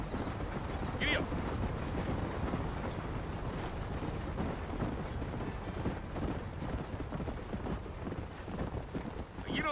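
Horse hooves clip-clop at a steady galloping rhythm, close and continuous, while riding in the Western video game Red Dead Redemption, with game voices talking over the hoofbeats throughout.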